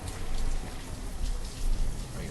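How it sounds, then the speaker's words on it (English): Steady, dense rainfall in the city-building game Banished hisses evenly at moderate loudness and close range, with no voices and no thunder. "Oh yeah, the raindrops are falling."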